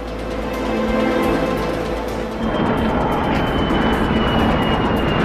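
Broadband roar of an airplane flying a parabolic zero-gravity arc, heard from inside the cabin; a steady, loud engine and airflow drone that swells slightly about halfway through, with no talk.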